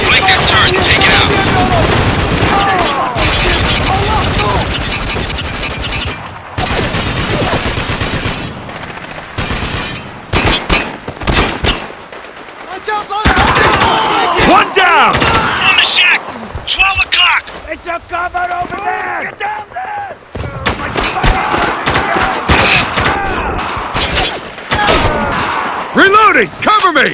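Heavy machine gun fire in Spec Ops: The Line, loud sustained bursts of automatic shooting broken by brief pauses, with other gunshots and battle noise layered in and voices shouting over the combat.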